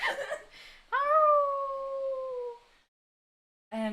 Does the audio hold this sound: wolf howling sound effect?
yes